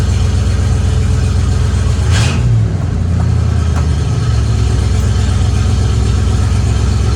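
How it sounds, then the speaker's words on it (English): A 1965 Ford Mustang convertible drives with a freshly reinstalled drive shaft and seal. The engine's loud, close, steady drone fills the cabin, with a brief shift around the middle and no talk. "We're going to take it for a drive now."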